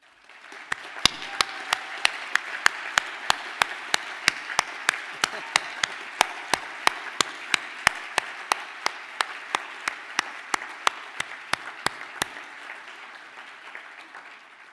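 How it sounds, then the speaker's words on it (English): Applause for a graduating class at a ceremony, a steady bed of crowd clapping punctuated by regular loud sharp claps or knocks close by, ending around twelve seconds and then tapering off. "I would like to ask this class to please stand for a round of applause"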